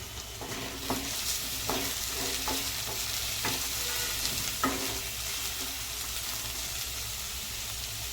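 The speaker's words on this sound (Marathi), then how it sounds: "ह्यात आता आपण मिक्स करतो आहे अर्धा कॅप्सिकम आपण जे बारीक कापून घेतलेलं आहे चौकोनी आकारात" Diced capsicum being stirred in a frying pan for paneer bhurji, a steady close sizzle broken by several sharp scraping strokes of the spoon in the first five seconds, then continuous frying alone.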